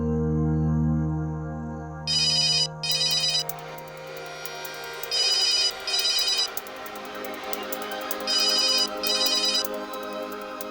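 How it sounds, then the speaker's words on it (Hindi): A sustained tone fades, then an electronic ringtone chirps in repeated pairs of bright, trilling bursts, fairly loud and close. "इस वक्त किसका फोन है?"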